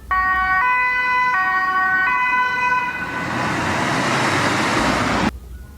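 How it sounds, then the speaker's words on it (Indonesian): A toy ambulance car's siren plays a loud stepped two-tone wail, then shifts into a rushing noisy burst before cutting off abruptly near the end. "ternyata mobil ambulan teman-teman"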